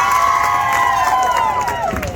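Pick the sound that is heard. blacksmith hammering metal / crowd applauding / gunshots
crowd applauding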